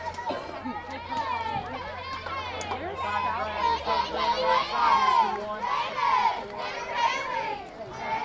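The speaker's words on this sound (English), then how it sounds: "The Doniphan Donettes dugout comes to life, trying to cheer on their pitcher, wanting some runs" Doniphan Donettes softball dugout cheering on their pitcher during a game against East Carter: a steady, lively chorus of girls' voices shouting and chattering together for about eight seconds, fairly close and continuous.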